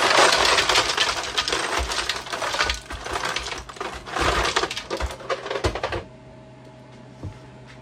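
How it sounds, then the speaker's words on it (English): Ice cubes clatter and crunch as they tumble into a jar layered with cucumbers for pickles, a loud, dense rattling for about six seconds before falling quiet. "we'll add in some ice."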